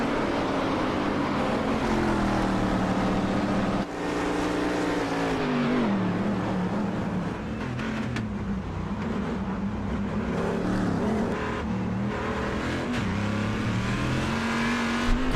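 GT race cars at Suzuka in a sim racing game, engines droning loudly and continuously with shifting pitch as they exit the final corner onto the front straight, no talk over it.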